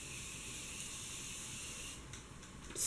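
A soft, steady hiss of aerosol brow spray runs for a couple of seconds, then sputters into short bursts.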